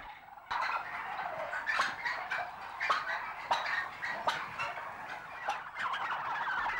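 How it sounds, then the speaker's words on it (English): Bronze turkeys in a crowded farm shed gobble in repeated bursts, many birds calling close and loud over a constant din of the flock with no pauses. "Premium-priced bronze turkeys."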